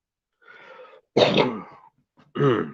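A person clears their throat, then coughs twice in short, harsh bursts, loud and close, with brief silences between.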